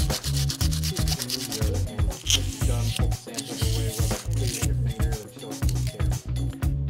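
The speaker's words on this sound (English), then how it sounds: "take a small piece of sandpaper and remove all the shine from the surface of the back of the body cap" Small piece of sandpaper rubbed back and forth over the back of a camera body cap to dull its shiny surface, giving a steady run of close, rhythmic scratchy strokes.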